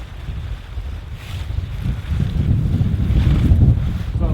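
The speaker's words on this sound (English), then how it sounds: "Okay, that's enough wind now." Strong wind gusting at a hammock campsite ahead of a thunderstorm, a loud, steady rumbling roar buffeting the microphone and swelling toward the end, with no talking.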